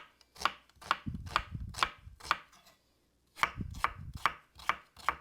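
A potato being sliced by hand with a knife on a cutting board, about nine crisp, evenly paced cuts in two runs separated by a short pause, close and clear with no talk.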